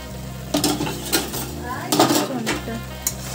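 A lid is lifted off a pan of red spinach cooking with prawns, giving a couple of close metallic clinks and scrapes over a steady sizzle and bubbling.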